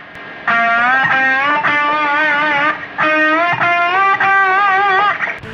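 Guitar slide vibrato wobbling evenly around the main tone, with distorted, effects-laden sustained notes in several held phrases, loud and alone.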